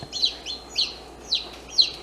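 Young chickens from a hatching batch give four short, high, bright peeps at a steady, close and fairly quiet pace, with soft background noise between them.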